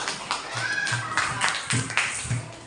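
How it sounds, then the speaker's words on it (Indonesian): Fourth-grade schoolchildren clapping in a primary school classroom, a moderately loud patter of many small hands with a few sharper claps standing out, and a brief voice or two underneath. "Beri tepuk tangan buat kalian semua."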